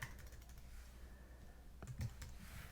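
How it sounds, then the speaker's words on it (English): Quick, light tapping on a computer keyboard as a word is entered, a short burst of soft clicks, close but faint, alone without speech. "you can type in a word"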